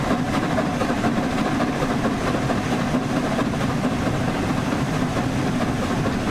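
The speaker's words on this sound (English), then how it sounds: "I want to hear the sound effects for slipping." Train wheels slip and spin in the Train Sim World 4 video game, heard as a steady, loud rumbling engine and rail roar with a dense rushing texture throughout, no voices present.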